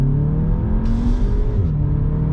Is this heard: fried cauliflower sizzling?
no